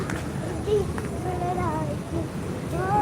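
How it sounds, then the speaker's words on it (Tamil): Rain falls with a steady, hissing patter during a thunderstorm with lightning while people talk over it. "மின்னல் அடிக்கிறது மழை பெய்கிறது"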